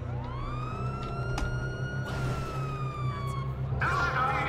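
A police siren in the video game GTA 5 wails in a long rising and falling tone over a low rumble, joined by bursts of noise and a second siren pattern near the end.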